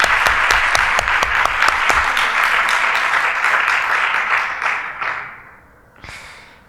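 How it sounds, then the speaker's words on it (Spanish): Audience applause at an international congress, a dense sustained clapping from a large crowd that thins and fades out toward the end. "Hacemos un aplauso a Papa Francisco,"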